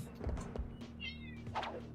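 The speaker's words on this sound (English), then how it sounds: "My cat is coming in here with a report." A Siamese cat lets out a short, clear meow close by midway through, followed by a softer second call, over low background hum and a couple of soft thumps.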